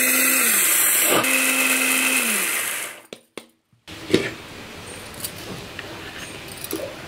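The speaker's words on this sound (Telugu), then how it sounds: "ఇలాగా బరకగా మనం మిక్సీ పట్టించుకోవాలన్నమాట." A kitchen mixer grinder whirs loudly as it coarsely grinds sago for vadiyalu, running steadily for about three seconds before winding down, followed by a few clinks and rattles of the jar.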